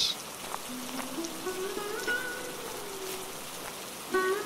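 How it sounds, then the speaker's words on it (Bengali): Steady rain falls outdoors beside a village wetland in a cartoon scene, a faint, even hiss with soft musical tones drifting over it. "ভাবছি এখনো তো বৃষ্টি পড়ছে"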